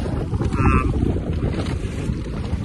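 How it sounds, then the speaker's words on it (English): Strong wind buffets the microphone while an RS100 sailing dinghy is out on breezy water, a loud, continuous rushing roar with water wash underneath. "So we're on the water now, and it's quite breezy."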